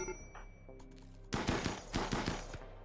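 Rapid bursts of automatic gunfire from a RimWorld battle, starting sparse and quiet, then swelling into a dense, loud volley of overlapping shots that continues to the end.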